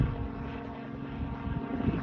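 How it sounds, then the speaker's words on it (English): A helicopter flies overhead during a motorcycle ride, giving a near, continuous low rotor thrum with uneven pulsing over its short duration, and no one speaks. "we've got like a whirlybird flying above me"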